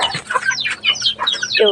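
Chickens and a rooster cluck and call in a farmyard pen, several close, irregular bird calls overlapping one another, with a voice speaking briefly among them.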